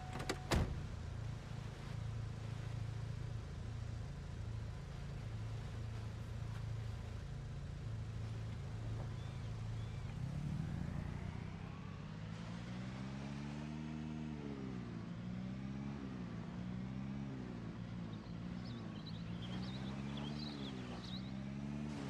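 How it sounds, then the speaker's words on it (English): A car in the Fortnite video game being parked, with a steady low engine hum that shifts into rising and falling tones as it maneuvers, a whirring motor sound near and continuous throughout. "park this car"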